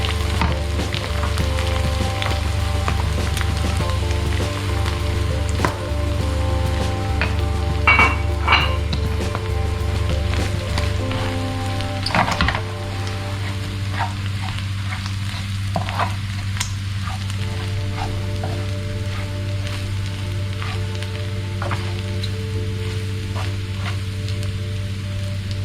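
Chili paste ingredients, with chili flakes just added, fry in a pan with a steady sizzle and an underlying low hum, broken by a few sharp clinks of a utensil against the pan.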